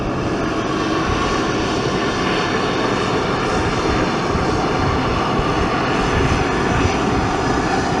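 Loud, continuous jet roar from a Frontier Airlines plane's engines as it departs the airport, a dense unbroken rumble from fairly close, with no voices.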